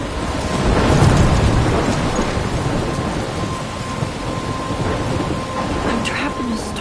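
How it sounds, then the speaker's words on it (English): Thunderstorm in the video game Life is Strange: heavy steady rain with a deep rolling thunder swell early on, continuous and loud with scattered sharper drops. "I'm trapped in a storm?"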